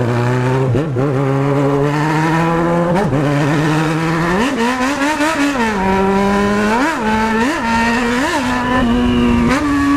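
A Yamaha XJ6 motorcycle engine revs loudly and close, with a steady idle broken by repeated sharp throttle blips that rise and fall, more frequent in the second half, with no one talking.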